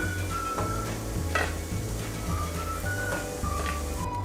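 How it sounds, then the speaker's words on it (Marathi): Raisins and dry fruit sauté in a pan for a jaggery lapshi, with soft sizzling and stirring scrapes that continue steadily at close range, joined by a few light clinks of a spoon against the pan. "आता मी मनुके घालून घेते आणि थोडा वेळ परतून घ्यायचे आहेत आपल्याला"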